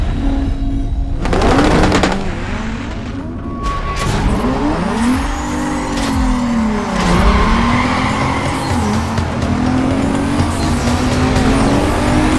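A speeding car in the racing game Need for Speed Carbon roars steadily with a rising and falling engine note, joined by long, loud tire squeals and skidding throughout.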